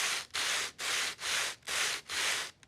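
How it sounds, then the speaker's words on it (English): Two sandpaper blocks are rubbed together as orchestral percussion, giving six even, rhythmic scraping strokes separated by brief gaps, close and fairly soft. "is Sandpaper Blocks."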